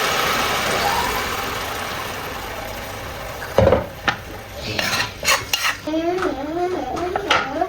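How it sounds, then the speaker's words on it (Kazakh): Crushed tomatoes pour into a pan of garlic fried in a little oil, a wet slosh and clatter of the pan following a quiet steady hiss, with a few sharp utensil knocks and scraping strokes near the end. "Жаңағы езіп алған помидорымызды құямыз."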